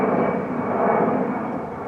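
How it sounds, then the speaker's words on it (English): An A-10 Warthog jet flies overhead with a loud, steady engine roar and whine that swells and slowly eases over a couple of seconds, close and dominant, with no talk. "And I got a Warthog A10 drowning me out here."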